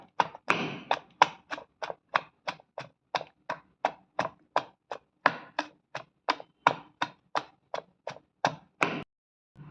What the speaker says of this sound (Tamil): மாங்காய் சம்மங்கியை உரலில் போட்டு இடிச்சுக்கலாம்